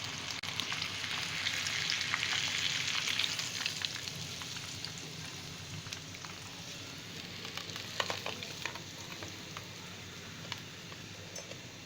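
Lahori chicken chargha frying in ghee, a continuous close sizzle with fine crackles and occasional spits and ticks, louder at first then settling, with no one talking.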